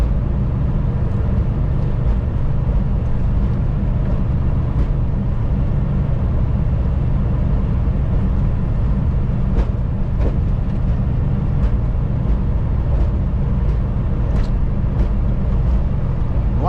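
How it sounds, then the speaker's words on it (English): A heavy truck with its Jake brake set to position 2 drags downhill while running empty, producing a loud, steady, low engine roar that holds without a break from start to finish, with no talk. "So I have my Jake brake in position 2"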